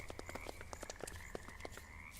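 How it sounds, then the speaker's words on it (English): A frog croaks repeatedly in modded Minecraft, a rapid series of short clicking croaks over a soft steady ambient hum, fairly quiet and unaccompanied by speech. "I hear a frog."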